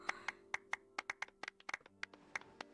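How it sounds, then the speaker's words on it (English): Two people clapping in the game Genshin Impact, a run of about fifteen sharp, moderately quiet hand claps at an uneven pace, some overlapping as if from two pairs of hands, over a low steady background hum. "grand total of 2 clapping sounds. 2 people clapping."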